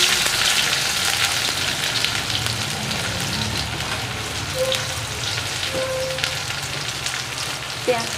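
Spices fry in hot oil for a Medinipur-style pui saag raita, giving a steady, close, crackling sizzle throughout with faint clinks.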